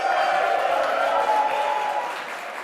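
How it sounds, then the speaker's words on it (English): Workshop audience at a session on collaborating to innovate letting out a loud, sustained cheer with clapping, steady crowd noise filling the whole stretch and tapering off slightly at the end. "can we have a big kind of cheer?"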